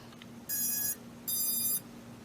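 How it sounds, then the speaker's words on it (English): A DarwinFPV Baby Ape Pro FPV drone's lost-model beeper sounds two shrill, piercing bursts, each about half a second long, with a brief pause between them over a quiet background hum. "I've got the beeper set up. It gets real mad when it doesn't have RF connection."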